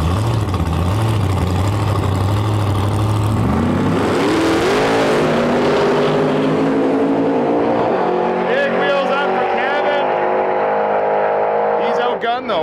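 A 1930s roadster drag car at a Big Tire race at Saskatchewan International Raceway rumbles low, then launches into a loud, climbing engine roar with shifts that fades down the track, while a voice talks over it.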